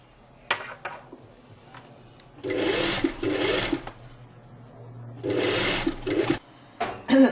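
A sewing machine runs in two separate bursts, each about a second and a half long, while stitching pleats in place on a belted shirt-tunic. Short taps and clicks fall between the runs.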